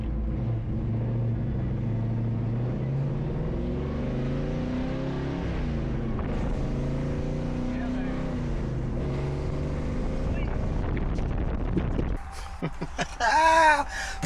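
A car engine hums steadily from inside the cabin as it drives, with road and wind noise throughout and a brief change in texture near the end.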